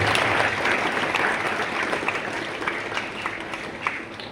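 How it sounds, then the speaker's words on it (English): Audience applause at a school investiture ceremony, dense and steady clapping from a crowd of teachers, students and parents, tapering a little over several seconds. "So big round of applause to yourself."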